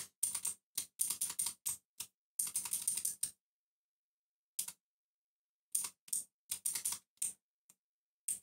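Keys on a computer keyboard clack in quick bursts of crisp taps as a code is typed in, with a pause in the middle before more scattered keystrokes, close and fairly quiet with no talk.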